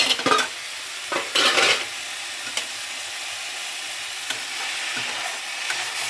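Beetroot poriyal stir-frying in a pan, a steady close sizzle broken by several sharp bursts of scraping and stirring from a utensil.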